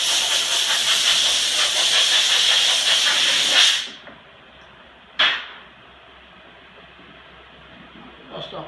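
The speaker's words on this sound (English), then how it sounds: "Now what we'll do is we'll blow it off with a little compressed air again" Compressed air blasts loudly in a steady hiss for several seconds over a stained plywood floor, stops, then gives one short sharp burst, followed by a fainter puff near the end.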